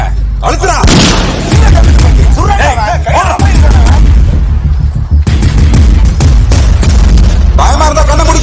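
Gunfire in a Tamil action film scene from Kaithi: loud, close booming shots and bursts under dense dramatic sound, with voices shouting in between.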